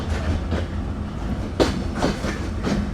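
A Sagardari Express train rolling into Noapara railway station in Jessore, with a steady rumbling wheel-and-carriage noise and a few louder clacks, close and continuous with no voices.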